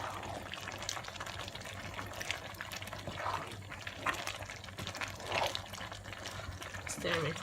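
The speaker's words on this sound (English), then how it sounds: "So just allow it to simmer" A pot of Nigerian beans simmers quietly, a soft continuous bubbling and liquid burble at low level, with a low steady hum underneath and occasional faint knocks.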